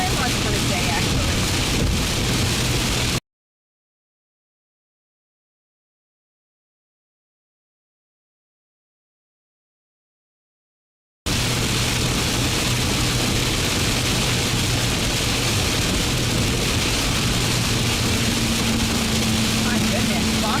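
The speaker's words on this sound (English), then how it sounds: "My goodness, lots of rain." Heavy rain pours onto a vehicle during a storm chase in the Ozark Mountains of Arkansas, a loud, constant roar with engine rumble and wind buffeting, broken by a long stretch of silence.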